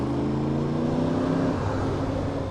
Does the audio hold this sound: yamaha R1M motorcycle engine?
yes